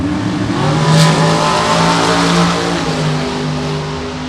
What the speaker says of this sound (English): Manpower sponsored race car going up against Devin Coslow